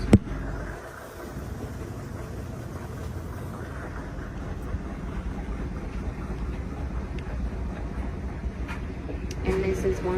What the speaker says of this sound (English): So we are now on the final spin.